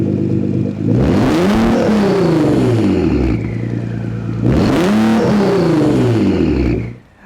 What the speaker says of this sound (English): The exhaust makes loud noises.